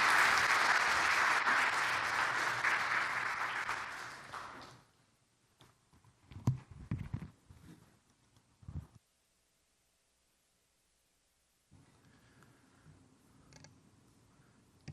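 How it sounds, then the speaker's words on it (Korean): A church congregation gives a round of applause that lasts about four seconds and then fades, followed by scattered creaks, shuffling and a few faint knocks in a quiet room. "감사의 박수 한번 보내드립니다"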